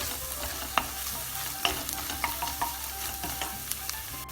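Pepper paste and tomato paste sautéing in a pan make a constant close sizzle. Repeated spatula scrapes and taps mark the stirring at a loose, steady rhythm.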